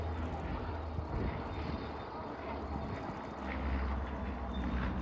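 Bristol Blenheim Mark IV bomber at an air show, a steady droning piston-engine roar of moderate loudness carrying throughout, with a commentator speaking over it.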